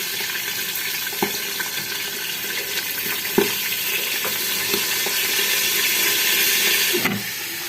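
Steady sizzling and hissing of salmon frying in hot oil in a frying pan, with a few soft clinks and knocks of the pan throughout.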